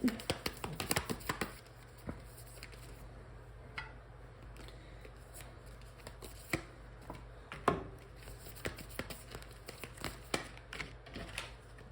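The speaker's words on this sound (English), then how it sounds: "Let's draw some moon cards on that." Moon oracle cards are drawn from a deck, with quick irregular shuffling, flicking and tapping of card stock close up, heard in bursts against a quiet room.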